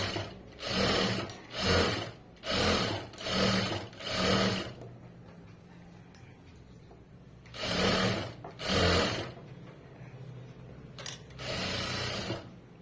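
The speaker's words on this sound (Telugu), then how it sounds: "ఇలా కుట్టుకుంటూ వెళ్ళిపోవాలి" A sewing machine stitches folded cloth in short, even bursts of rapid whirring, five runs in a row, a pause, then two more runs and a softer final one, close and clear.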